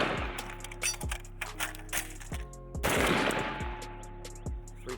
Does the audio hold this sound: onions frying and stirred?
no